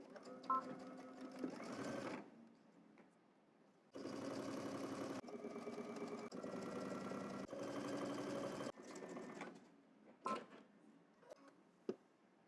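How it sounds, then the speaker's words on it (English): A sewing machine stitches a 3/8 inch seam allowance while sewing leggings, with two or three sustained runs of steady mechanical whirring broken by short pauses and small clicks. "now we're going to head to the machine. We're going to stitch around here using 3/8 of an inch seam allowance."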